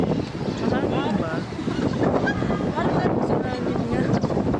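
Strong wind gusting across an open plaza in Hong Kong, a steady loud rushing buffet over the microphone with faint crowd murmur underneath, continuous throughout.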